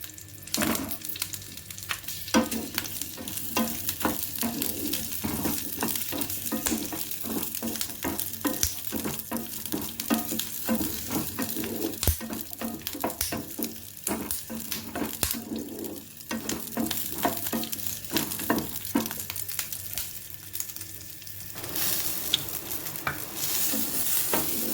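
Green chillies fry in a spoonful of oil in a pan, a steady sizzle broken by repeated scraping and clinking strokes of a spoon stirring them, close and busy throughout.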